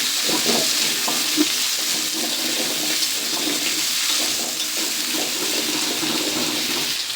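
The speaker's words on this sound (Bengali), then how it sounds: "আলুগুলো এখন সুন্দর করে ভেজে নেব।" Cut potatoes fry in hot oil in a pan, a steady loud sizzle running throughout with repeated scraping stirs of a spatula, close up and with no talk.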